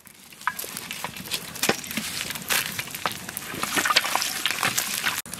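Dry red chillies and a bay leaf temper in hot oil in a kadai, crackling and spitting busily up close with irregular sharp pops and scraping that grows denser toward the end.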